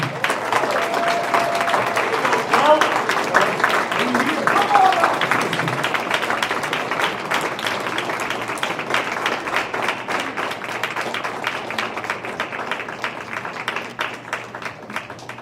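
A big crowd at a school board meeting gives a long round of applause to an honored student, loud sustained clapping with cheers and voices mixed in, tapering slightly toward the end while staying steady.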